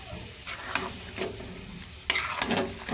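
Chicken with chickpeas and spices sizzles steadily in a pan while a spatula scrapes and taps against the metal a few times, close up with no talking.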